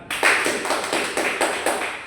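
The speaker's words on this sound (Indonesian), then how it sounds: "tepuk tangan untuk teman Ali" Children in an elementary school class clapping for a classmate, a steady run of quick, fairly close handclaps in a brisk rhythm with no talking.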